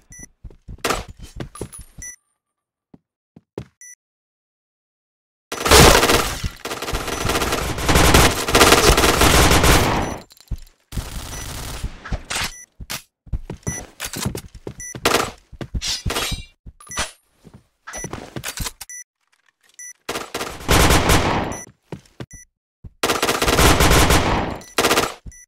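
Machine gun fire in the shooter game Point Blank, gala mode, comes in loud sustained bursts and sharp single shots, separated by brief silent gaps.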